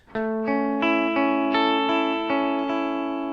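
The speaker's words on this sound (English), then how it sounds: "all I mean by arpeggiated chords is simply playing the notes of the chords" Single guitar notes ring out one after another at a steady pace, building an arpeggiated chord with a slightly effected, sustained tone.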